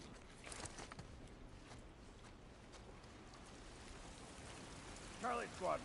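Steady rain falls in The Last of Us Part I, a broad continuous hiss that holds at an even level throughout, with a brief louder burst near the end.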